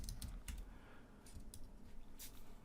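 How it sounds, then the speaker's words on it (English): Typing on a computer keyboard, soft clusters of quick key clicks in short bursts, close but faint over a steady background hiss, no talking. "just go ahead and type this stuff in"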